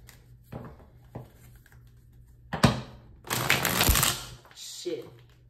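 Oversized playing cards are handled and shuffled, giving a run of papery riffles, flicks and slaps that builds to a dense burst of shuffling, close by, with a voice speaking over part of it.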